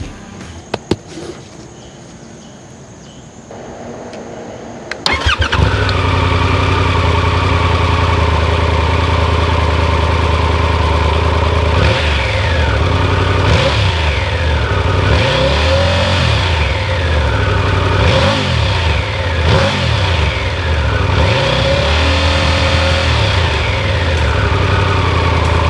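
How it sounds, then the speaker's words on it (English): Triumph Tiger 1200 motorcycle with a T-plane crank and uneven firing order: a short starter whir, then the engine catches loud and close, idling raspy and grunty before several rising and falling revs. "This T-plane crank gives you that uneven firing order, which gives you that sweet, raspy, grunty tone."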